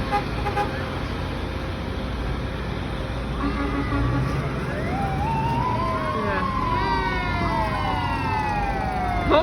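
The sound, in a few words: siren of a vintage fire engine in a truck parade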